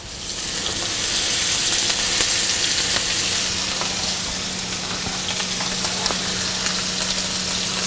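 A steak sears in a hot pan with a loud, steady sizzle and crackle, and a low hum sits underneath. A few faint clinks come through, with no talking.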